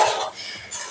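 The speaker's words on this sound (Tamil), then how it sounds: "அதனால் இப்படி கிளறி விடுங்க." A spoon stirs simmering idli kurma in a cooking pot, making a brief burst of close metallic scraping and clinking that fades, then returns softly.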